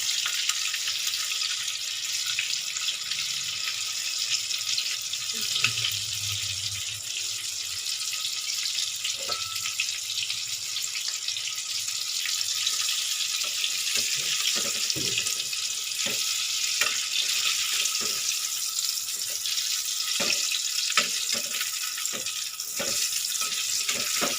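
KFC-style chicken pieces frying in oil, a continuous bright hiss and sizzle with scattered pops and crackles, steady and fairly loud with no voices.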